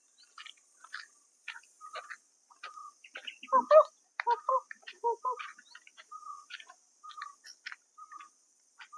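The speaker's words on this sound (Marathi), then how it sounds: "आजूबाजूला पक्ष्यांचा पण आवाज येत आहे" Birds calling in the open grounds around an old Shiva temple, a scatter of short chirps and tweets near and far in quiet surroundings, many brief calls overlapping irregularly.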